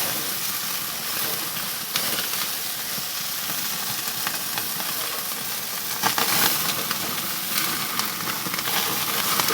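Lamb chops sizzle on a hot grill, their fat cooking off in a steady, close crackling hiss that runs throughout with a few brighter pops near the middle.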